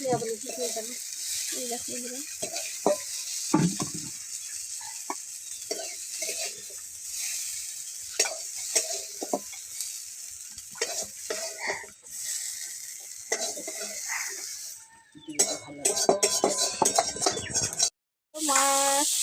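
Food is stirred in hot oil in a pan, with a soft sizzle, scraping strokes and occasional clinks of the utensil. Voices talk on and off over it, and a clattering burst of handling comes near the end.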